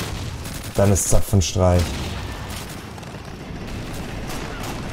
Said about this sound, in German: er schießt einfach das Geschütz ab